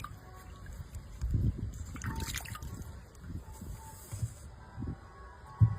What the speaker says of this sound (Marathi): आपण आता बटाटे एकदा पाण्याने स्वच्छ धुवून घेऊ